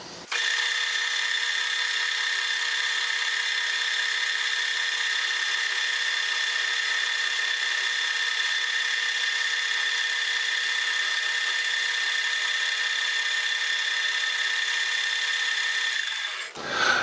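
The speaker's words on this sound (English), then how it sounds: "I'm going to just plunge halfway down into the hole with this two flute end mill and then rip my way down an inch and a half" A two-flute end mill cuts metal on a milling machine, plunging and then ripping downward: a steady, high-pitched cutting whine that holds evenly and close for about sixteen seconds, then stops.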